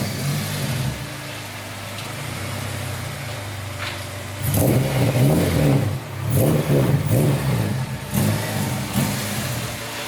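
A modified Ford Fiesta MK6 idles with a low hum, then revs hard in several sharp bursts that rise and fall, close and loud, with no talking.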